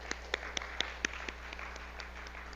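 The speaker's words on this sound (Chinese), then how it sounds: "我们拍手谢谢他们。" A congregation at a Kaohsiung church Sunday worship service claps to thank the choir, giving a few faint, distinct hand claps in a loose rhythm, several crisp ones early and softer ones trailing off over a low steady hum.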